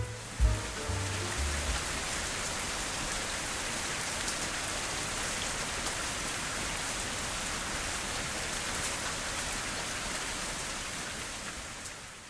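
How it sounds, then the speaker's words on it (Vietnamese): Steady pink noise plays as a constant background hiss, broadband and even like heavy rainfall, holding level throughout after a brief low thump at the start, with no voices. "Đó gọi là pink noise"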